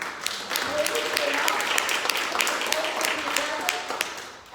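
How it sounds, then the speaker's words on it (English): Audience applause at a leadership panel discussion, a moderate, steady patter of clapping hands that swells briefly and fades near the end, heard from within the room. "I want to really give a big round of applause to the wind beneath my wings, Katie Owens."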